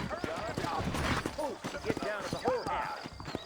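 Horses trotting in the Red Dead Redemption video game, a steady clip-clop of hooves running under almost continuous male dialogue between riders.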